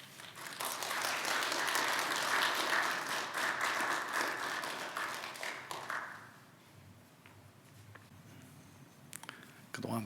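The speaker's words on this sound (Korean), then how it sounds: "이제 나오실 때 큰 박수로 환영해 주시기 바랍니다." A church congregation applauds to welcome a speaker, a broad burst of many hands clapping loudly for about six seconds before fading away into quiet room tone and faint shuffling.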